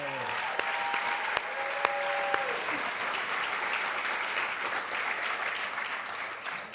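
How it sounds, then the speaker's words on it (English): An audience at a charity dinner applauds loudly and continuously, with a few sharp claps standing out and a voice briefly audible under the clapping. "I want to hear a little bit louder applause for them"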